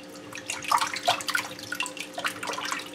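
Tap water runs and splashes while fish are washed out inside under the stream, irregular close splashes and drips over a low steady hum.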